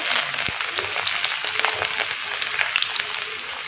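Ginger and garlic fry in a pan while a chicken gosht is being made, giving a steady, close, crackling sizzle with a few light stirring clinks and no talking.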